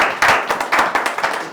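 Church congregation clapping for Christ, a brief burst of rhythmic, fairly close handclaps, with no talk over it.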